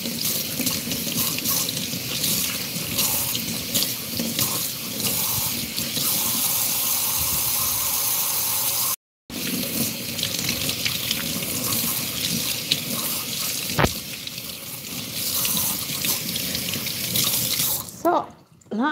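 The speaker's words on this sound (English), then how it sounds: "I need to wash my hands again" Hands being washed under a running kitchen tap at a sink while cooking, a loud continuous rush and splash of water with a brief cutout midway and the flow stopping at the end.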